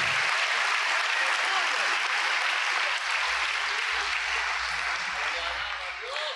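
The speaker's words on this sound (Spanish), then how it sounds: "Denle un aplauso al Señor Jesucristo" A church congregation applauds in a dense, loud, steady roar of clapping that lasts throughout, with a low rumble beneath it in the second half.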